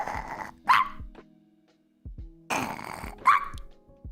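A streamer imitates a barking dog with his voice: two loud, rough bark-like bursts, each followed by a short growly tail, separated by a brief silence.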